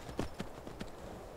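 Horse hooves clip-clop in the video game Skyrim. A few soft, evenly spaced hoof thuds sit over a steady background hiss, faint and at middle distance, and no one talks.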